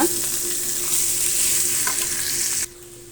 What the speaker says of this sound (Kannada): ನೀಟಾಗಿ ಮಿಕ್ಸ್ ಮಾಡ್ಕೊಳ್ಳೋಣ.